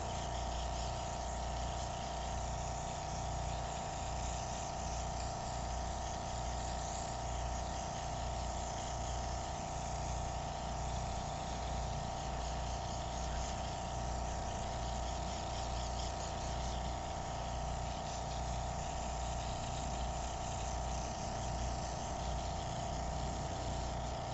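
A steady, even hum of a small airbrush makeup compressor running continuously with a constant airy hiss, unchanging throughout, no voices.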